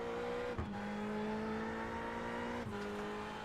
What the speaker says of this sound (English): This Ferrari engine's certainly not as loud